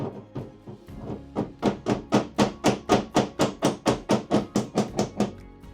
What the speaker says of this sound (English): No, it's stuck. I'm going to do the hammer.